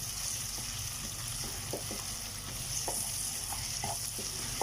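Whole spices including cinnamon fry in hot oil, giving a steady, soft sizzle with occasional faint scrapes and clinks from stirring, close by and without speech.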